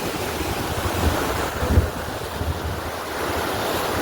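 Sea waves surge and roll in a continuous roar, mixed with buffeting wind.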